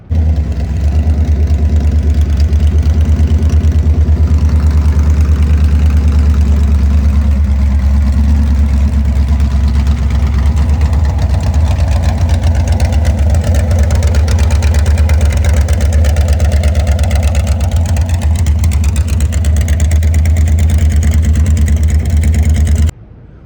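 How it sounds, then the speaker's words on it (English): A 1934 Ford Coupe hot rod's Gen 1 Hemi engine with open headers idles with a deep, rumbling throb, running loud and steady nearby for the whole stretch without any talking. "it's a 34 Ford Coupe. Sporting a Gen 1 Hemi engine."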